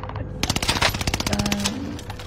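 Rapid automatic gunfire in an online shooter video game, a burst of sharp closely spaced shots for about a second and a half, loud and near, followed by a brief electronic tone.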